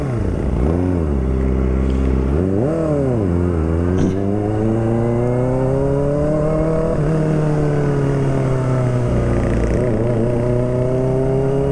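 A car engine roars loud and close, its pitch climbing and dropping through repeated revs and gear changes, then settling into a sustained, rising drone as the vehicle accelerates down the road.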